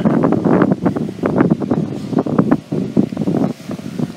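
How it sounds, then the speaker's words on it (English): Wind gusts across a wide open field surrounded by buildings, a steady rumbling buffet against the microphone with rustling, fairly loud and continuous with no speech. "Wind picked up."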